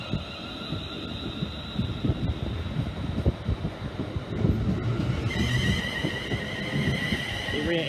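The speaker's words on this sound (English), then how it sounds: "Departing out now is the 13:32 London North Western Railway service from Birmingham New Street to Liverpool Lime" A London Northwestern Railway passenger train pulls out of a station, a steady rumble and rattle of wheels on track building gradually with faint high tones, heard outdoors over wind.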